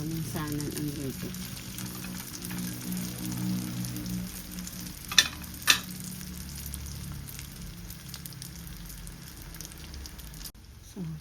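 Pieces of tikoy rice cake fry in a pan with a steady close sizzle, two brief louder knocks near the middle, and faint talk early on.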